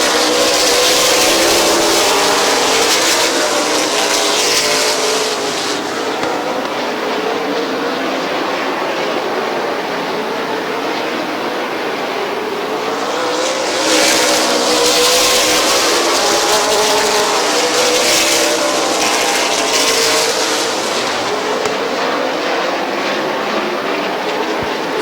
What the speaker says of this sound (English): Tim Ice sideways off of turn number two.